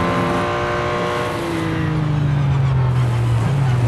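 Race car engines roar in Real Racing 3 during a Le Mans race, a loud close engine drone with rising and falling pitch as gears shift and a rival car runs alongside.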